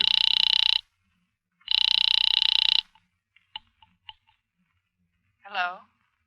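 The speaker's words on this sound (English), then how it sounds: "I'm ringing Miss Blake's apartment." Old-style telephone bell ringing in a 1940s radio suspense drama, two loud bursts of rapid ringing, then a receiver is picked up with a few clicks and a short vocal sound.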